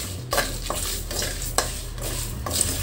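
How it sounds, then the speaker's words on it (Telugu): Raw rice and chilies fry in a hot pan for moringa leaf stir-fry, a steady close sizzle broken by several sharp scraping stirs of a spoon against the pan, with no voices. "పచ్చి బియ్యము వేసి ఇవి కూడా కలర్ చేంజ్ అయ్యే వరకు గోల్డెన్ కలర్ వచ్చే వరకు బాగా ఫ్రై చేసుకోవాలి"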